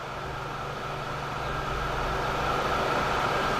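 Trains rolling in the Transport Fever game, two crocodile electric locomotives passing together: a steady, rumbling mechanical drone that builds slightly in loudness, with no voices.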